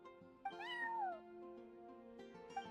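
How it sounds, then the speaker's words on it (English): A neighbor's cat in the video game Genshin Impact meows close by, a rising and falling drawn-out cry followed by softer, shorter mews over light game background music. "So it was you! I'm sorry, that's my neighbor's cat."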